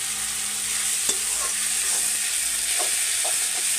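Ground chickpeas fry with masala for chole in a pan, a steady close sizzle and hiss broken by a few scraping stirs.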